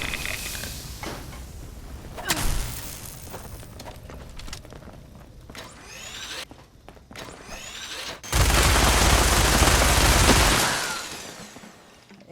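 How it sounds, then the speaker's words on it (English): A minigun fires in Fallout 76, with scattered gunshots and footsteps early on, then a dense, loud sustained burst of rapid fire lasting a few seconds before trailing off. "not exactly an amazing minigun when you're not really spec'd to use it"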